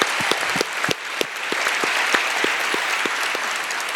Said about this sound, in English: If we could give them a round of applause for their service.